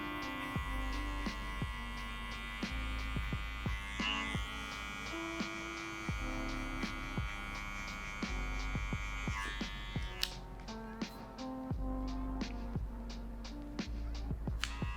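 Electric hair clippers buzz continuously at close range during a haircut class, a steady motor hum with faint mains tone and scattered small clicks and handling taps throughout, no voices.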